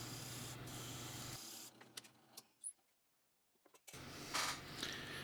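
Wood rasping as a wooden dowel is sanded down by hand to fit a 5/16 inch hole, heard as a steady gritty scrub that breaks off into near silence and a few light knocks before the scrubbing starts again.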